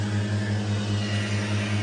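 A tractor engine drones steadily and close while sweeping hazelnuts on a steep, slippery slope, a loud, even low hum with slight pulsing and no voices.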